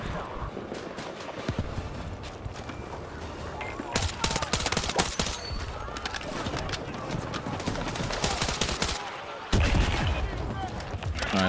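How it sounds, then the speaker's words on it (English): Gunfire from the video game Battlefield 6 rattles in rapid, loud bursts, close and continuous, with heavier blasts and battle noise layered over it and a voice talking in the background. "It keeps putting me back to automatic fire. I have to keep switching it to burst fire."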